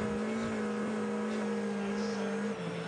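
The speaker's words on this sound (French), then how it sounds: "on entend les petites montées de régime par moment de la voiture" Rally car racing over an icy, snowy Monte Carlo special stage at about 130 km/h, its engine droning loudly and steadily close by with small rises in revs, a short dip near the end.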